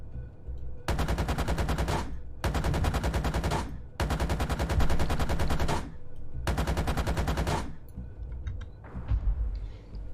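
In the tank game GHPC, shells hit a BMP infantry fighting vehicle in four loud, sustained bursts of rapid impacts, each roughly a second or two long and separated by short gaps, followed by a fainter rumble.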